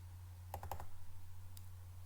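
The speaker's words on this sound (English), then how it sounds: "I am going to double click now inside this shape." A computer mouse clicks several times in quick succession, faint and close, over a steady low electrical hum, followed by one more click a moment later.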